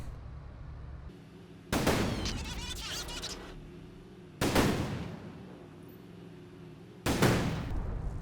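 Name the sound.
IS-2 tank main gun firing at infantry, Company of Heroes 2 video game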